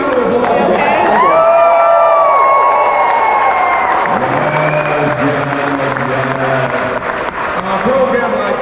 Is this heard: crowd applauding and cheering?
yes